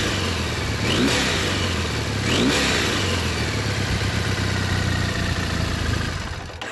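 A Triumph Bonneville twin-cylinder motorcycle engine idles loudly up close, with two sharp revs early on before it settles back to a steady rumble.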